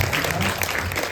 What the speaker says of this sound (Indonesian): Sekali lagi kita boleh kasih tepuk tangan yang luar biasa